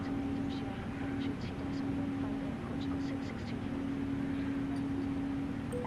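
An Airbus A330 NEO in a flight simulator produces a steady, fairly quiet cabin roar with a constant low hum that never changes through the whole stretch, and no voices are heard.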